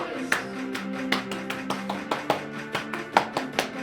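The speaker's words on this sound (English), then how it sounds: "Clap your hands like this." Sharp hand claps in a steady rhythm, close and distinct, repeating over a children's song backing.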